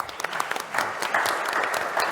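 Audience applause after a speaker's talk at a cities project panel, a brief, lively burst of many hands clapping at close range, uneven and rising slightly in intensity.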